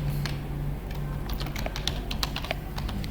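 Someone types a command on a computer keyboard in a Linux terminal while installing AutoDock Vina, producing rapid, irregular key clicks that end in a firmer keystroke, recorded close and fairly quiet, with no speech.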